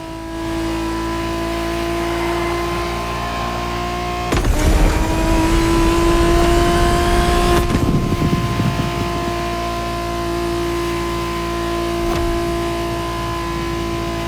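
A Toyota Supra's engine drones steadily in The Crew Motorfest racing game, then surges louder with a rough revving burst partway through before settling back to a constant hum, with no voices.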